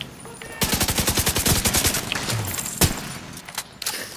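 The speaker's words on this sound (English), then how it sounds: "your turret was shooting him" Rapid automatic turret fire in The Division 2, a loud burst of evenly spaced shots for about two seconds followed by a few scattered louder gunshots.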